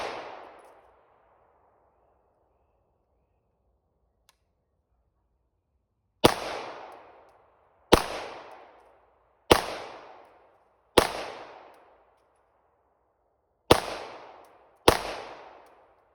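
A BCA bufferless 9mm gun fires six sharp, loud shots, each followed by a short decaying echo, spaced about one to two seconds apart after an earlier single report and a long quiet gap.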